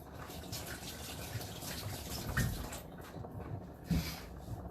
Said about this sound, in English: Wash your hands.